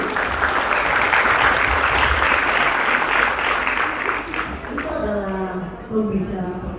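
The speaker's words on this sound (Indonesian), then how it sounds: "Kita kasih tepuk tangan sekali lagi." Audience applause at a Unity in Diversity session in Batam, dense and sustained for several seconds, then thinning out as a voice begins speaking over the end.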